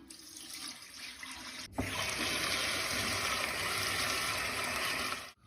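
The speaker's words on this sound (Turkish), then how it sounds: "Şimdi bu ıslattığım yarmanın dokudunun suyunu süzüyorum" Soaking water drains off cracked chickpeas being strained for toyga soup: a sudden steady rush of pouring water starts after a quiet moment and runs evenly for several seconds before cutting off, with no talking.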